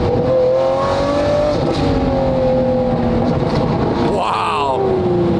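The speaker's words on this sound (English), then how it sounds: "Wow, that V12, man." Hand-built Lamborghini V12 revving hard, its engine note climbing and falling through several pitch sweeps, loud and close with a sharp rise near the end.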